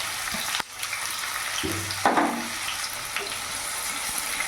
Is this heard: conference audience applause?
no